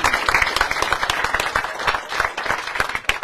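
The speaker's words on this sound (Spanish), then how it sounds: "que el aplauso sea para ustedes por este gran trabajo" Steady applause from a crowd at an official ceremony handing out farm machinery, many hands clapping in a dense, even patter for a few seconds.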